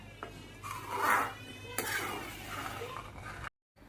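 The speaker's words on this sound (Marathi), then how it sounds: "आपलं दूध हे उकळलेलं आहे, ते आता आपण हलवून घेऊन आटवूया" Boiled milk is stirred in a pan as it reduces, with a spoon scraping and clinking softly against the metal in a few irregular strokes before a brief silence near the end.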